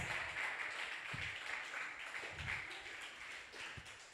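A church congregation claps for God during a Spanish-language sermon, a faint, thin patter of hands with a few sharper claps and low thumps, fading slightly toward the end.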